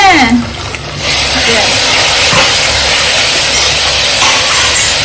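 Tomatoes go into a hot pan for a country chicken curry with onion and garlic, setting off a loud, steady broadband sizzle that follows a brief clatter at the start, with a voice faintly present.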